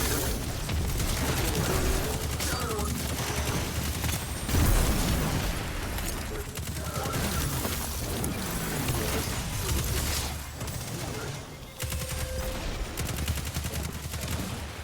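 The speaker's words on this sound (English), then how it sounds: "now I need to get auto rifle kills" Auto rifle fire in Destiny 2, sustained rapid shots blending into a dense wash of game noise with explosions and pops, loud and nearly continuous with a short lull near the end.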